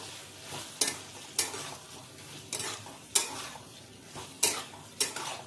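Aloo dum being stirred with coriander leaves and nuts in a pan, quiet sizzling under repeated sharp scrapes and clanks of a spoon against the metal, about six distinct strokes spaced roughly half a second to a second apart.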